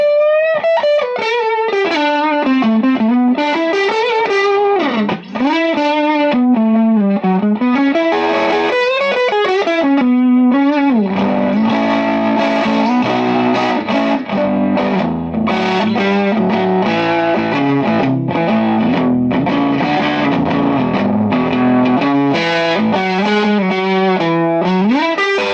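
Electric guitar played through a Timmy overdrive pedal stacked on another transparent-style overdrive, loud driven melodic lines with bends and vibrato, then fuller chords, continuous and up front.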